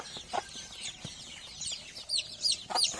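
A hen clucks softly in a backyard farm cage while her newly hatched chicks, brooded naturally rather than incubated, give high, thin peeps in scattered bursts nearby.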